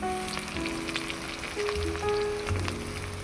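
Chopped onion, ginger, garlic and green chilli frying in a kadai for chilli soya, with a soft, continuous sizzle and faint crackles throughout.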